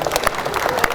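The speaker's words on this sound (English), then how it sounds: "Let's give them a round of applause" Audience applause at a hospitality session: a dense patter of many hands clapping together, close and fairly loud for about a second.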